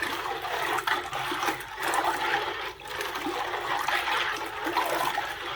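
Water pouring steadily into a bowl of beef jerky marinade, a continuous close splashing trickle lasting several seconds without pause.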